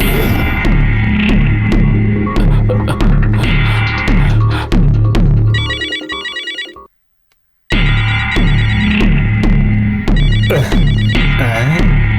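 A loud, repetitive electronic ringtone plays, breaks off into a brief silence, then resumes ringing just as insistently.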